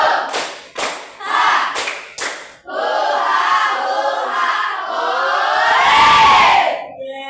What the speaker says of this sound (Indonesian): Satu kali lagi tepuk rimba.